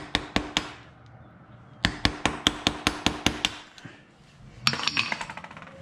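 Metal hammer blows bend back a lock tab on a sprocket nut, sharp ringing strikes in quick rhythmic runs of several hits each, close and loud, with a clattering metallic flurry at the end.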